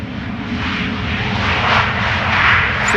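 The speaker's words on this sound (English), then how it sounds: "Transavia flight 5132 just touching down after coming back home from Barcelona" At Amsterdam Schiphol, a Transavia airliner returning from Barcelona touches down with a loud, continuous jet roar that builds slightly and holds, close and unbroken, with no voices.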